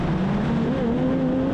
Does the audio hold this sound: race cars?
yes